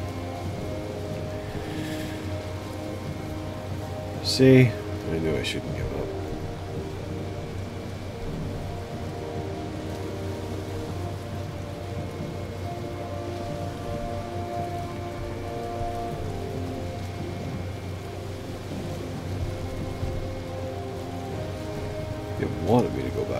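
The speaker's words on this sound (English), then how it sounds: "Oh! What a lovely rain." Steady rain falling in the Valheim video game, a constant soft patter with low rumbling ambience; someone speaks briefly over it.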